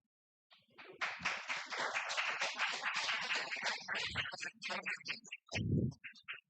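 An audience at a public forum clapping, a dense patter of many hands close by that holds for a few seconds and then thins into scattered claps.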